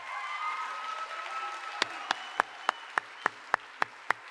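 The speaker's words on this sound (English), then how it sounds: "I just want us to give a big round of applause for him" Audience at a concert with a symphony orchestra applauds for Bruce Bronstein: a dense wash of clapping thins out, then gives way to single sharp claps in a steady rhythm, about eight in a row.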